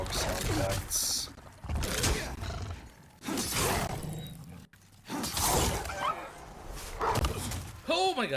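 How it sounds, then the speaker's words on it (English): Stock dog sound effects in the Demon's Souls video game, a run of loud growling barks and yelps in several bursts, with someone talking over the game audio. "Stock dog sound effects."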